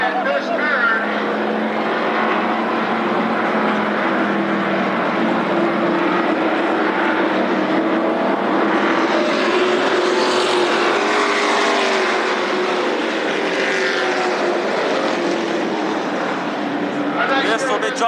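Late model stock cars racing at Berlin Raceway on opening night in 1999, a sustained roar of engines that swells as the pack passes and then fades, with an announcer talking throughout.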